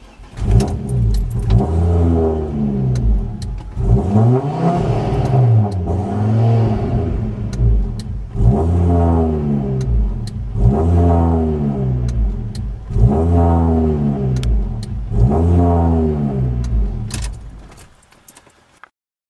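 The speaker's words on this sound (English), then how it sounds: "let's start the car and see what happens." A Mk2 Ford Focus ST225 with a freshly remapped ECU cranks and catches, then revs in a series of strong, rising and falling blips close by before the engine dies away at the end.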